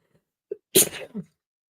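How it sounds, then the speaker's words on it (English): A short intake of breath, then a single loud, sharp sneeze close by, trailing off into a small sound after. "I am going to sneeze."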